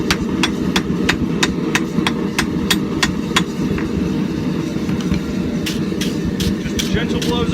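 A hand hammer lands a rapid, evenly spaced series of sharp ringing blows on a Damascus steel billet for forge welding, pausing briefly before a few more strikes, over a dense roar from the forge.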